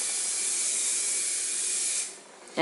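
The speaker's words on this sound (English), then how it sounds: "So Jeannie's using the Liquitex. It's a spray varnish with a matte finish." Liquitex matte spray varnish hisses steadily onto a canvas painting in one continuous close burst that fades out near the end, followed by a short sharp sound.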